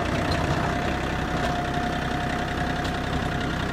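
Rusty old tractor plowing snow, its engine running in a steady loud rumbling drone close by, with no voices.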